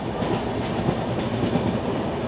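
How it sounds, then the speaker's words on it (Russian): A passenger train in India rolls along, its wheels giving a steady clickety-clack over a rumbling low roar that stays close and continuous throughout, with no voices. "поезд едет тихо, он очень быстро разгоняться начинает потом"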